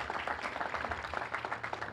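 An outdoor crowd applauding at a bandstand dedication in South Boston, a quiet, uneven ripple of scattered clapping heard from a distance with no talk.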